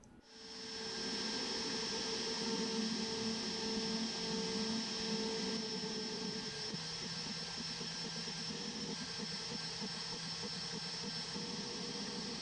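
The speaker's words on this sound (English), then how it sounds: "For the next operation, I'm using a higher quality tapered mill." A stock X-Carve V2 CNC router mills brass with a tapered end mill. A steady, high whine runs with a constant motor drone, and a slight change in tone comes partway through.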